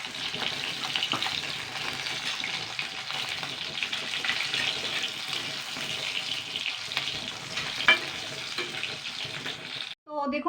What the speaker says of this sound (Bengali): মাছগুলো কিন্তু সুন্দর লাল লাল করে আমার ভাজা হয়ে গেছে